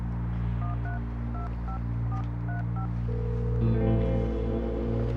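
A telephone is dialed with a run of separate touch-tone beeps in a brief rhythmic sequence, heard clearly over a steady low hum with no talking.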